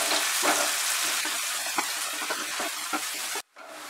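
Chopped onions frying in oil over medium heat, a bright, dense close sizzle with small stirring knocks, ending in an abrupt drop to quiet near the end.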